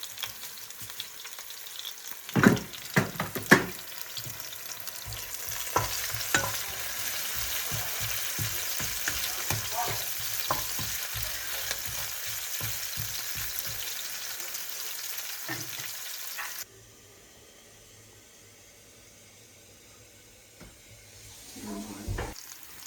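Red onion sizzles steadily in a pan with stirring clatter and scrapes for about sixteen seconds, then the frying drops to a faint, quieter hiss.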